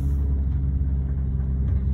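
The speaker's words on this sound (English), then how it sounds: "You can hear the engine note, at 2000 revs, starting to moan a little bit" A car engine held at about 2000 revs in first gear while accelerating gently after braking, giving a steady, close, low rumbling drone with a slight moan and no talk.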